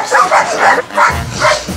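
Bernese mountain dogs bark in a loud, close series of rhythmic woofs and yips, about five to six barks in quick succession from more than one dog.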